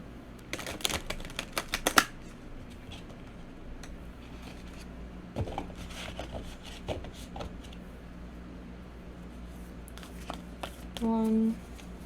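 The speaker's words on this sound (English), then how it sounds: "So let's shuffle this deck." A Wild Unknown Archetypes tarot deck being shuffled by hand, with quiet crisp riffling and card flicks in short bursts separated by pauses and faint background noise.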